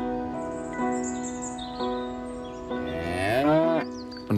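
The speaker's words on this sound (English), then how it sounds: "On Glenarm Estate, the shorthorn beef cattle are already in calf" Shorthorn beef cattle on a country estate moo in a few long, droning calls, one after another, the last rising and bending in pitch, close and clear with no voices.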